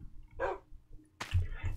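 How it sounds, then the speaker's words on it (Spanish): A dog in Minecraft gives two short barks, the first small and clipped, the second fuller and followed by a low thud, heard alone against quiet game ambience. "Pues tenemos dos perros que nos van a estar haciendo compañía."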